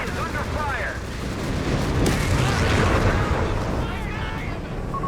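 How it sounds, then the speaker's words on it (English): Smoke barrage artillery in Company of Heroes 3, a 1v1 match of Afrika Korps against US forces: a dense, continuous rumble of distant shell impacts and booms swelling midway, with battlefield clutter and faint whistles throughout. "Smoke barrage."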